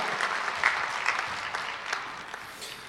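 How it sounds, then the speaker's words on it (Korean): A church congregation claps together at a New Year blessing prayer service, a steady wash of applause lasting a few seconds at moderate loudness, with faint voices mixed in. "하나님 경강의 박수를 드리겠습니다"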